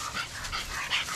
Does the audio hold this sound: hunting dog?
yes